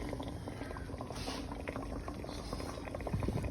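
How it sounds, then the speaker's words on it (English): Garden greens being washed in water, with a steady splashing, bubbling and sloshing of liquid close by, continuous and moderately loud with small taps and patter mixed in. "I'm in here washing my greens."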